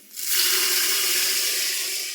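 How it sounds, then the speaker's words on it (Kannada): Tamarind water pours into a hot pan of frying vegetables for a Kannada-style palya, a steady splashing hiss that swells in quickly and holds for about two seconds, close and fairly loud with no talk. "ಇದಕ್ಕೆ ಹುಣಚಿಕೆ ನೀರು ಹಾಕೊಳತ್ತಾರ್ರಿ"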